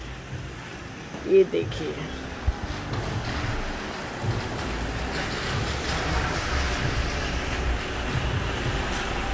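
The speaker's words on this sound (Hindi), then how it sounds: "वहाँ सामने देखिए गार्डन में पानी भरा है, कल रात से बारिश हो रही है नॉन स्टॉप" Heavy, nonstop rain falls over a flooded garden as a steady broadband hiss that runs the whole way through, while someone briefly speaks over it near the start.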